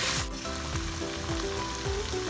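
Pork meat, with liver and heart, sautéing and simmering in a pan, a steady dense sizzle with occasional stirring scrapes, loud and close throughout with no talking.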